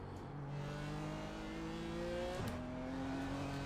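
Simulated racing engines in iRacing's IMSA Pilot Challenge at Barber, with a BMW passing a Porsche; a steady droning engine tone shifts pitch as one car draws alongside, heard from the cockpit at moderate level.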